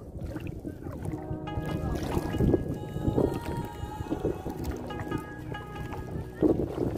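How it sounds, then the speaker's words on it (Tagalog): Strong wind blows by the sea, buffeting the microphone in gusty rumbles, with water sloshing and faint voices beneath. "malakas kasi ang hangin"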